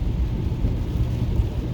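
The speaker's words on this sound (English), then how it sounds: "It's raining right now." Rain and thunder heard while driving, a loud low rumbling roar with broadband hiss that stays steady throughout, no speech.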